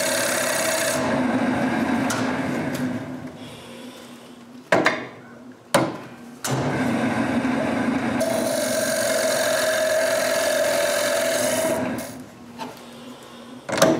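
A lathe turns a wooden tenon as a tool rasps steadily against the spinning wood, with a continuous scraping drone broken by brief pauses.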